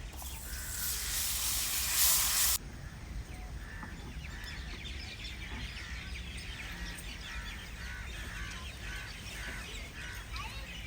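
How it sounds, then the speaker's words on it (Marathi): Water for a Bombay duck curry, seasoned with turmeric and Koli masala, hisses loudly and steadily in the pot for about two seconds and then cuts off, leaving faint birdsong in the background. "पाळवण्याला छानपैकी उकळी यायला सुरुवात झालेली आहे तुम्ही बघू शकता"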